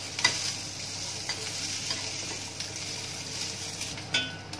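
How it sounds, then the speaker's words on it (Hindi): Onions sautéing with cashews in a pan, stirred as they turn golden brown, giving a steady close sizzle broken by scraping clinks of the spoon against the pan. "प्याज सॉटे हो गया है और अब हम इसमें काजू भी मिक्स कर रहे हैं और इन्हें थोड़ा गोल्डन ब्राउन होने तक कुक करेंगे।"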